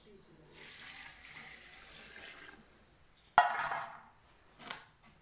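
Water is poured into a cooking pot in a sudden burst of splashing, then a shorter second pour follows, after softer running-water noise from a tap nearby.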